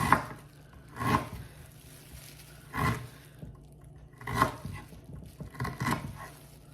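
A knife slicing through ginger on a board in a home kitchen, giving about six separate soft cuts at uneven intervals, close and fairly quiet over a low steady hum, no voices.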